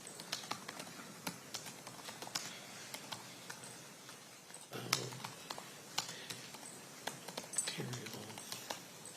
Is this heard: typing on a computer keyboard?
yes